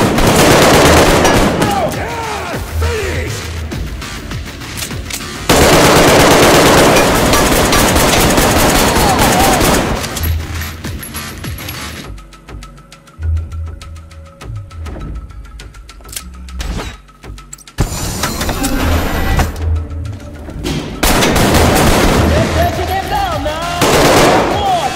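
Rapid gunfire in the VR shooter Arktika.1, loud bursts and single shots close by, broken by quieter stretches with mechanical clicks and hums, while a player shouts in between.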